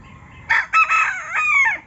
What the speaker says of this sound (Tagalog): mga labuyo tilaok din eh